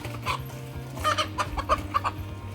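Homestead chickens cluck excitedly at a dog, several close, quick bursts of squawking and clucking crowding one after another over a few seconds.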